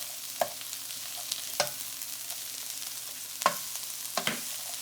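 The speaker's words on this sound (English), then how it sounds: "you'll dump those onions in and saute those onions in" Onions sautéing in oil and butter, a soft steady sizzle broken by a few sharp scrapes and clinks of a utensil stirring the pan, close by with no talking.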